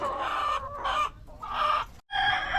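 Chickens in a new coop bedded with rice hulls cluck and squawk in a run of close, loud calls with brief pauses between them.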